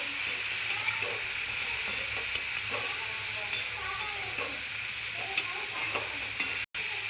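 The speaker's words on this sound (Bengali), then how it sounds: "আর হলুদ দিলাম 1/2 চামচ দিয়ে একটু চাপা দিয়ে আস্তে আস্তে ভাজবো।" Spices with turmeric and salt fry slowly in a covered pan for a vegetarian greens curry, giving a steady, even sizzle with light, regular ticks and crackles throughout.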